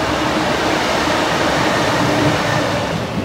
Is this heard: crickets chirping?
no